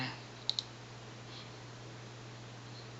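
A few sharp computer mouse clicks, a quick double click near the start and a single click at the end, crisp and close against a quiet background hum.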